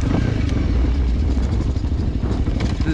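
A Honda CRF300 trail motorcycle with a modified exhaust, suspension and ECU, warming up for a forest-road ride, gives a loud, continuous, rough engine rumble with slight surges, heard up close with no talking.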